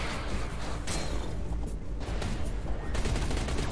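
Primary weapon guns on a spaceship in a space sim video game fire in rapid bursts. The close, loud volleys rattle almost without pause, with brief gaps between salvos.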